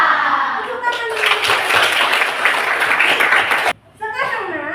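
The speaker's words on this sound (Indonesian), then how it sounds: "Tepuk tangan dulu." Schoolchildren clapping together in a classroom, a burst of loud, dense applause, bracketed by a child's and a teacher's voices before and after, ending abruptly.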